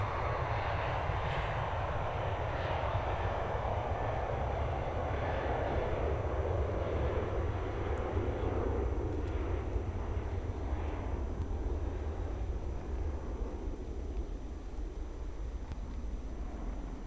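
A Qantas airliner takes off from Melbourne Airport bound for Sydney, its jet engines a loud, steady roar that swells and then slowly recedes while the pitch shifts across the run.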